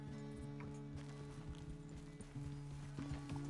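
Horse hooves clip-clop at a walking pace in the Red Dead Redemption 2 video game, as a quiet, steady rhythm under tonal music, with no one speaking.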